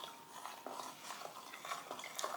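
A fabric dye mixture being stirred in a container, giving soft, quiet scraping and clinking strokes in an irregular rhythm, heard close up with no talking.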